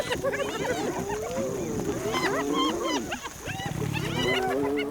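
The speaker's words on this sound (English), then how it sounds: "The hyenas dare to go for it and start an all-out attack on their rivals." Hyenas and lionesses fight over a kill at night in the African wild, a chaotic, close mix of whooping, cackling hyena calls and deep lion snarls and growls, overlapping throughout without pause.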